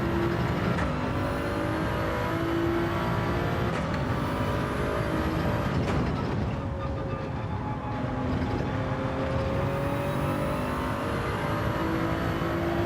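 A Toyota Supra race car in Gran Turismo 7, its engine droning and rising through several gear changes, loud and continuous with tire and track noise.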